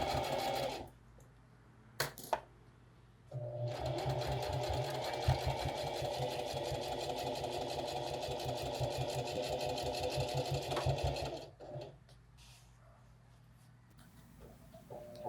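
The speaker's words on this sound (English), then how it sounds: "So I'm back on the sewing machine. I'm just going to stitch a 1/2 inch seam on each side of this bag." Sewing machine stitching a half-inch side seam on a toiletry bag with a cheap zipper, a steady rapid whirring clatter that runs for about eight seconds after a brief pause and a click, then stops.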